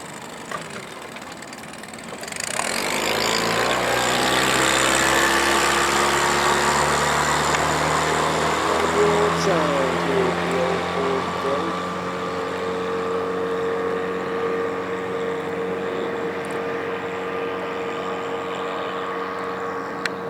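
A 2010 Yamaha 15 hp four-stroke outboard motor on a small boat opens up to full power, rising abruptly from a low idle into a loud, steady, droning whine that holds for many seconds.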